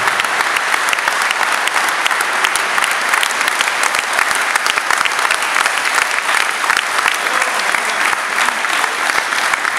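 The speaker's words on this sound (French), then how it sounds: "un grand tonnerre d'applaudissements à ces gens-là" Sustained, dense applause from an audience at a cheque presentation ceremony for a charity rose campaign in Algrange, steady and loud throughout with no break.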